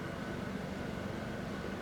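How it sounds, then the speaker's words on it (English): A tractor running in a distant field in the early morning, heard as a faint steady low engine drone that stays level throughout, with no talking. "it sounds like a tractor"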